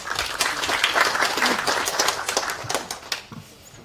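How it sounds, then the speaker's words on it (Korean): An audience at a political activity report meeting bursts into applause, a dense round of many hands clapping that holds steady and then thins out into scattered claps and fades near the end. "박수 좀 부탁드리겠습니다"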